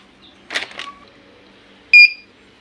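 A single short electronic buzz sounds loudly after a few scattered knocks and faint voices, then stops abruptly.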